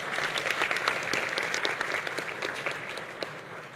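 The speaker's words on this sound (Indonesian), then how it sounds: "Mohon tepuk tangan." Audience applause at a provincial final of a school quiz competition in Bali, a dense wash of clapping that holds steady and then slowly tapers near the end.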